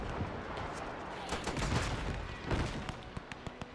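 Dense battlefield gunfire from the WW1 strategy game Between Empires, with a massed fusillade of rifle and machine-gun shots cracking over a constant rumble, several sharp louder reports toward the end.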